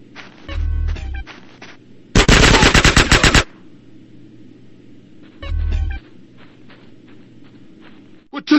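Gunfire in the video game GTA San Andreas: a loud, rapid automatic burst lasting about a second, with low thumping impacts before and after it and sparse clicks in between.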